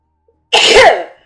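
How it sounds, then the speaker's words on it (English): A single loud, sharp sneeze bursts out close by after a brief silence, then trails off quickly. "Every time I sneeze like that"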